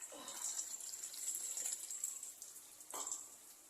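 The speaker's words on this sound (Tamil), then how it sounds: "புளி வந்து கரைச்சி வச்சுருக்கேன், இதை ஊற்றிடலாம்." Tamarind water poured into a simmering brinjal curry, a brief soft splashing gush of liquid that is fairly faint and close, with a second short pour near the end.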